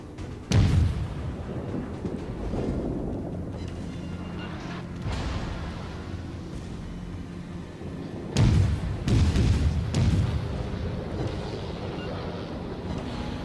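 Torpedo hits in the naval video game World of Warships land as two heavy booming impacts over a steady roar of wind and sea, the first near the start and the second partway through.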